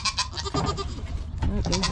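Goats bleat outdoors on a snowy day, several overlapping nasal cries close by in a busy, rough jumble with some background movement.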